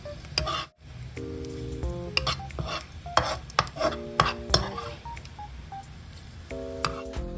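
Garlic stir-frying in oil in a pan, with a steady sizzle under repeated stirring and scraping taps, plus several short electronic beep tones over the cooking.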